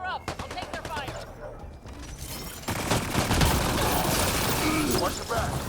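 Rapid enemy gunfire in the Mass Effect video game, dense bursts of automatic shots crackling continuously amid combat noise, with characters talking over the firefight.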